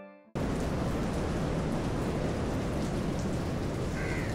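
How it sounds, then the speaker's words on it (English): Steady, dense rain pattering through a forest in Goa's Netravali area, a broad continuous hiss that starts abruptly after a brief quiet moment and holds loud and even throughout, with no voices. "The pattering raindrops"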